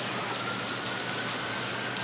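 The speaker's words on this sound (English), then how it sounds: "this rain's getting stronger." Rain falls steadily and grows stronger, a soft, even hiss of drops with no pauses and no voices, fairly quiet throughout.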